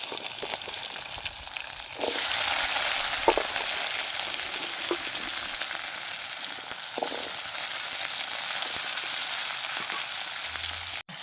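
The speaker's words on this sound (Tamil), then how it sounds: "முதல்ல நாங்கள் இந்த வெங்காயத்தையும் உள்ளியையும் வதங்க விடுவோம்." Onions and garlic sauté in hot oil in a village kitchen for a medicinal pirandai thokku, a steady close sizzle that swells louder after two seconds and keeps frying with faint stirring scrapes, no talk.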